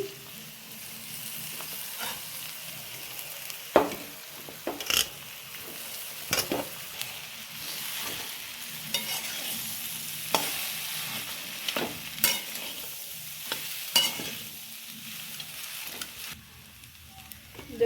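Mashed boiled potato for aloo paratha filling being stirred and fried in a pan, a constant soft sizzle broken by repeated spatula scrapes and taps at an uneven rhythm.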